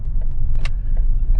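A Ford Transit Custom 2.2 diesel engine with a 'Service engine now' warning idles with a deep, steady rumble, heard close, with a few faint clicks over it.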